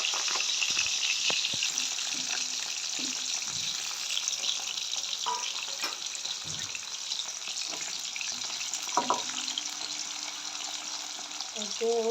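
Potatoes fry in a pan with a steady, bright sizzling hiss throughout, close and continuous, broken by occasional light clinks and stirring scrapes.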